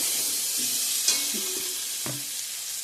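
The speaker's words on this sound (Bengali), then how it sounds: "এখন পেস্ট করা মশলাটা দিয়ে দেবো" Spice paste dropped into hot oil sizzles steadily and loudly up close, with a few soft scrapes of stirring over the continuous hiss.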